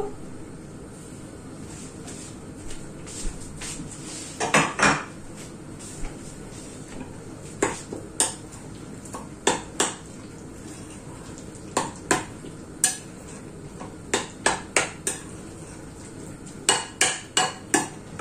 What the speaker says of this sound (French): Dedans ce bol là, on va y mettre un œuf